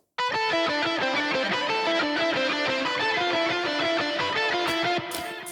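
An overdriven electric guitar plays a lead line of quick, distinct notes with a crunchy, saturated tone, loud and alone.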